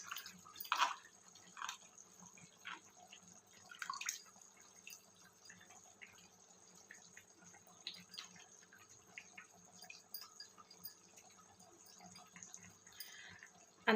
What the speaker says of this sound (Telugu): ఒక 2 నిమిషాల పాటు ఇలాగే ఉడకనిద్దాం.